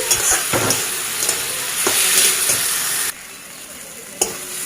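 Tomatoes are mashed with a spatula in a hot frying pan, giving loud, steady sizzling with repeated scraping strokes. The frying noise drops sharply partway through, leaving a quieter hiss and one last clack.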